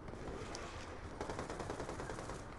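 Pistol fire and other gunfire in the video game Black Ops 2, a dense, continuous burst of loud shots and crackling that thickens partway through, with no clear gaps between reports.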